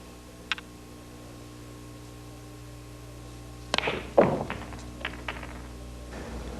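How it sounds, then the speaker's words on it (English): Billiard balls on a 4x8 pool table: a cue strike sets off a quick cluster of sharp clacks and knocks as the balls scatter, then a few scattered thuds as they drop into pockets, with a quiet room behind. "I'm going to try to make 6 balls in 6 different pockets with one shot."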